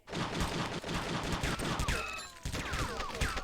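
Dense gunfire in a game shootout from True Crime: Streets of LA: rapid overlapping shots and bursts fire continuously and loudly, some sharp cracks standing out, with no talking.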